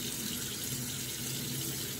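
Water runs steadily from a tap into a sink as a continuous, even hiss with no talking, a constant flow throughout.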